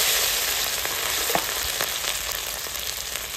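Crushed ginger and green chili sizzle steadily in hot oil in a kadhai, a dense, continuous frying hiss with a few sharper crackles and spatters, close and fairly loud, with no voices.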